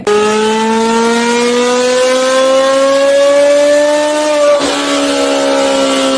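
A Porsche 918 Spyder plug-in hybrid sports car engine revs loudly and close by, its steady whining tone climbing gradually before a brief drop and settling again.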